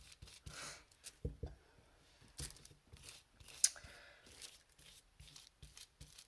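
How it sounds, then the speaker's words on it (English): Intermittent crisp rustling and crinkling, like paper being handled up close, with short bursts and pauses and one sharper snap. "I love listening to the crinkle of the paper"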